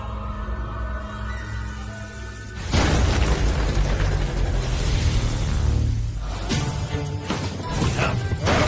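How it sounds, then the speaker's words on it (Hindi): A deep booming blast erupts after a quieter rumble, followed by sustained crashing and roaring debris noise that lingers loudly. "धमाका।"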